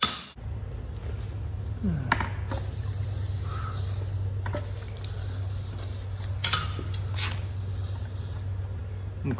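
A hot hand-forged steel piece, part of a deer head sculpture, dunked in a water bucket: bursts of hissing sizzle and splashing over a steady low forge blower hum, fairly close.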